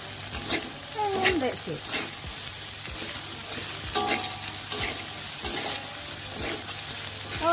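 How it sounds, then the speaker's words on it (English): Pineapple rice with cashew nuts stir-fries in a pan, a steady close sizzle broken by repeated scraping strokes of a spatula, with a short spoken phrase over it. "Alright, stir fry for a while,"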